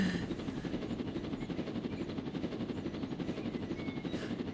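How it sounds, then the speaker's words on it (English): A helicopter in Roblox Jailbreak runs steadily, its rotor producing a continuous close, rhythmic chopping drone that fills the whole stretch without any speech. "Let's get back in the helicopter."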